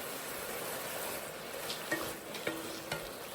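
Onion tossed into a pot of frying chicken, a steady close sizzle and crackle with a few small clicks and stirring scrapes on top, no talking.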